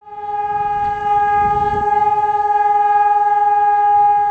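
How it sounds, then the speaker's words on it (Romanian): Alarm sirens sounding at a tax office building in Dâmbovița, Romania: a loud, steady, horn-like siren tone that holds continuously with a slight pulsing warble, alone without talk. "La sediul ANAF Dâmbovița sirenele au sunat"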